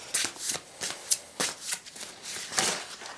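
A deck of tarot cards shuffled by hand, giving repeated quick riffling bursts of papery flutter and soft slaps at close range, with no talking.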